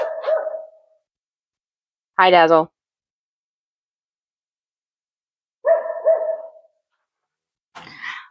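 A single short dog bark rings out in an outdoor garden near a greenhouse. It sits between short bits of a person talking, with silence in the gaps.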